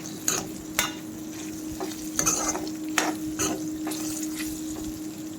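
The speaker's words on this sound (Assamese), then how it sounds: "হালধি দি লৰাই দিছোঁ।" Pork curry stirred in a pan with turmeric, the meat frying in its own rendered fat without added oil: repeated scraping strokes over a steady sizzle, close and moderately loud, with a constant hum underneath.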